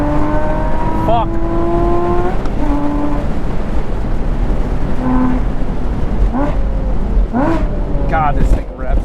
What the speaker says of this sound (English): this thing revs so nice